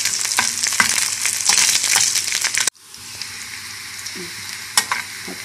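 Zucchini browning in a hot pan gives a loud crackling sizzle with stirring scrapes, then after an abrupt drop continues as a softer, steady fry with occasional clinks.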